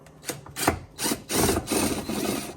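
A 3/8 socket wrench working a fastener on an EZGO 36-volt golf cart, a few short ratcheting and rubbing bursts, close and fairly loud, with brief pauses between strokes and no talking.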